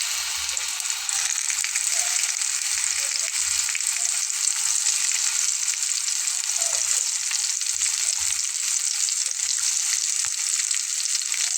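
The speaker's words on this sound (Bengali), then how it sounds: "এখন বেগুনটাও একটু ভেজে নেব।" Eggplant rubbed with salt and turmeric fries in hot oil, giving a steady, close sizzle with soft, irregular low knocks from the pan throughout.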